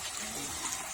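Water pours and gushes steadily into a crayfish tank during acclimation at a backyard farm, a continuous close wash of splashing with no pauses.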